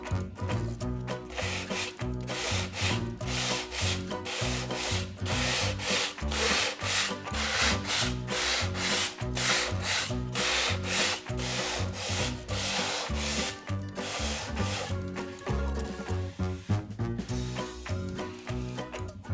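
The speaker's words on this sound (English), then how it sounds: "I'm going to sand just to make sure that what I've just created is part of the background" Dried paint on a stencilled craft surface is sanded in fast, rhythmic back-and-forth strokes for about twenty seconds, loud and close with no voices.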